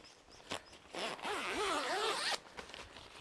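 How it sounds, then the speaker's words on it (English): A single long zip opens along an Ironman 4x4 awning room, the pull rasping steadily for over a second, close and clear after a couple of soft handling taps. "Just gonna unzip him all the way."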